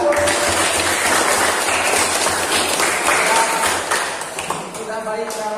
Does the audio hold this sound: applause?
yes